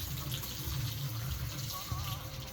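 Water sloshes and splashes while a large bedsheet is scrubbed and washed by hand, a steady close wet rushing that carries through the whole stretch with no talk.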